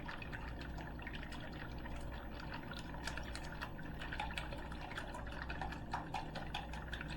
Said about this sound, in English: Just beat it around until all the egg yolks are mixed in.